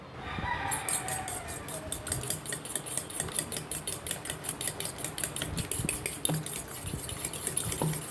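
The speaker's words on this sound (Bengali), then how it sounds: "হাফ চামচের মতো বেকিং সোডা দিয়ে আমি এটাকে ডিমটাকে ভালো করে ফেটিয়ে নেবো" Eggs mixed with baking soda are beaten in a bowl, the whisk clinking rapidly and rhythmically against the sides in a steady, close-up run of metallic taps.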